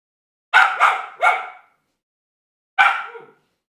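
Four loud barks from a dog in a video game: three quick ones in a row, then a lone bark after a short pause, with no other sound around them.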